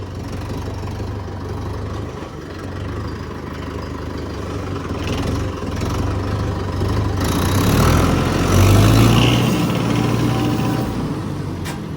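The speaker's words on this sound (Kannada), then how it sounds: "ಆದರೆ ಸೌಂಡು ಕೂಡ ಕಡಿಮೆ ಇದೆ ಈ ಗಾಡಿದು, ಯಾಕಂದ್ರೆ ಡ್ರೈ ಏರ್ ಫಿಲ್ಟರ್ ಇದೆ" A Mahindra Yuvo Tech Plus 585 DI special edition tractor with a dry air filter runs steadily, a low diesel drone with a gentle knock that swells briefly in pitch and loudness midway, close and alone.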